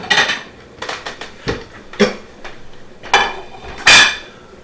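Plating a stuffed pork chop in a home kitchen, with loud ringing clinks and clatters of dishes and cutlery arriving in irregular bursts, close and sharp, one especially bright clang near the end.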